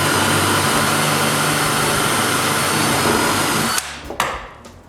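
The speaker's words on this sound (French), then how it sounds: "avec un guide pour percer droit, je perce des trous pour des écrous à visser" A power drill boring holes through wood with a drill guide, a loud continuous whine that cuts off near the end with a couple of brief clunks.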